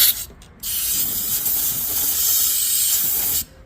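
Compressed air from a compressor nozzle blasts into a freshly tapped exhaust stud hole on a Nissan Skyline R32 RB26 engine, two quick short puffs and then a steady loud hiss lasting about three seconds before cutting off.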